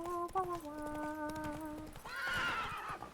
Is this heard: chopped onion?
no